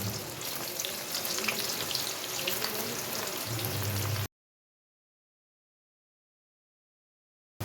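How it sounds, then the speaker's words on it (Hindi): Onions frying in hot oil in a kadhai, a steady dense crackling sizzle heard close for about four seconds before cutting to silence, with a brief burst at the very end. "तो अब ये देखिए तेल गर्म हो गया, तो अब शामिल करूँगी प्याज।"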